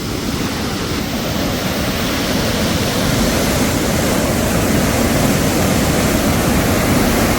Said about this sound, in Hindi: जल का बहाव इतना तेज हो चुका है